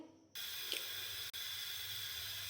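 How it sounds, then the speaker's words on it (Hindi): A gas stove burner is turned on in a home kitchen, giving a sudden soft whoosh and then a steady close hiss of flame, with one brief dropout partway through. "चूल्हे का फ्लेम हमने ऑन कर लिया है"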